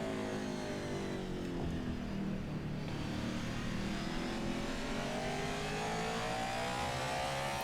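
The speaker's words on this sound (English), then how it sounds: "if we are in clean track, I can hear the engine" Race car engine in NASCAR 21: Ignition at Martinsville, a steady droning whine with rising harmonic sweeps, heard continuously at moderate level with no talking.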